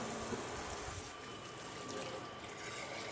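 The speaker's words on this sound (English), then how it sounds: "I'm just getting some of these jars rinsed off a little bit" Tap water running steadily into a sink while glass jars are rinsed, a constant close splashing hiss with no talking.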